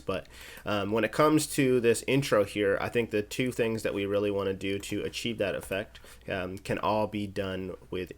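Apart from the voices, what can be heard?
None of the usual background noises is heard.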